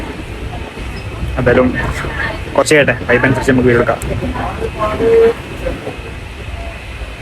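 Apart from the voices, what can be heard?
train moving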